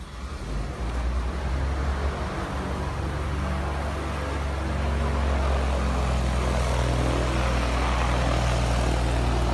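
A propeller airplane engine runs close by with a loud, steady drone and a deep low rumble that holds unbroken throughout.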